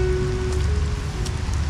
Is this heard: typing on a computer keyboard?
no